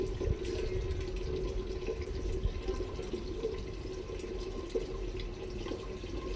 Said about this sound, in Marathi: आता रोजच्या रोज पाणी सुटायला लागलं है ना.